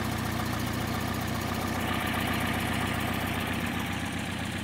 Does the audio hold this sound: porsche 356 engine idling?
yes